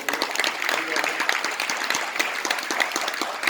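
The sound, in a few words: seminar audience applause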